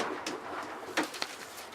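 Soft cooing from a pair of Jan Aarden racing pigeons, a few faint murmuring coos at moderate distance over a steady hiss of background noise.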